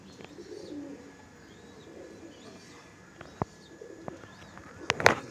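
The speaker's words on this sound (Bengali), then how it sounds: "আচ্ছা, কালাঙ্কা গ্রুপের পায়রা" Soft, low cooing of Madrasi pigeons of the Kalanka group, Arshad and Dasu breed, murmurs faintly through the clip, broken by a few sharp clicks and a louder burst near the end.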